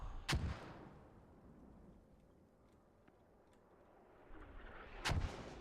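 Two heavy mortar impacts in a multiplayer shooter match, one near the start and another near the end, each a loud booming blast trailing off into low rumble with quieter battle noise between.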